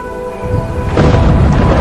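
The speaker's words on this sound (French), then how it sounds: "Et ce terrible coup de tonnerre." A sudden deep boom swells into a loud rolling rumble that sustains to the end, like a thunderclap overhead.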